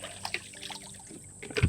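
Water trickles faintly and splashes inside an empty bucket as it is rinsed out with green pond water, ending in a short, louder slosh.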